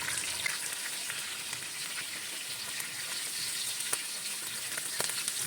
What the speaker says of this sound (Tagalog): Prito tayo ng tilapa.